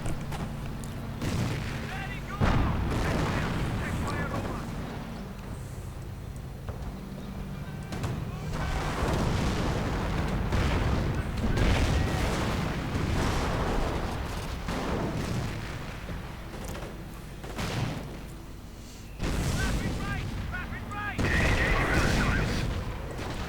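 Artillery booms and gunfire crackle through a 2v2 World War II strategy game battle involving a Pershing tank, anti-tank guns and Priest artillery, with dense, continuous fighting and repeated heavy blasts throughout.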